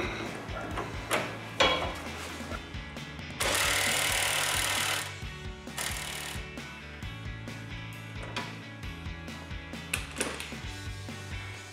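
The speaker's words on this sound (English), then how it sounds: "And I'm gonna use my impact." An impact wrench tightening a sway bar link bolt on a Jeep Wrangler JK: several short, loud rattling bursts of hammering, one longer sustained run, mixed with ratcheting clicks and metallic clatter nearby.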